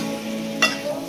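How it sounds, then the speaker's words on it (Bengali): Mutton sautés in a spice paste with a steady low sizzle and one brief scrape of a spoon stirring through the pan. "ভালো করে মাটনটা দিয়ে কষতে থাকবো।"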